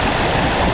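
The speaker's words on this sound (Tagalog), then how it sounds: "yan yung ilog yung nagdurugtog sa atin" A river running past a prospective campsite in Barangay San Antonio, Kalayaan, Laguna, a loud close rush of flowing water with no voices, brief and continuous.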